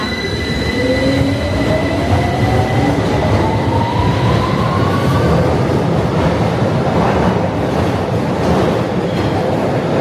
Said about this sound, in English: This is a Victoria Line train to Leicester Central.